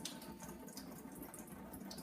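Water pours and splashes in a steady stream through a hole in a plastic cover on an aquaponics aquarium, soft and continuous like a small tap running, with no voices.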